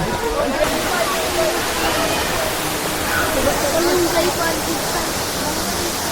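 A tiered waterfall on a ride route near Real-Infanta, a steady, dense rush of falling water close by, continuous and fairly loud from start to finish.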